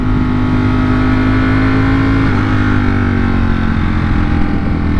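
A motorcycle fitted with CNC Racing lever guards and bar end mirrors cruises along, engine running in a loud, steady drone with a slight pitch dip midway, wind and road noise throughout, no voices.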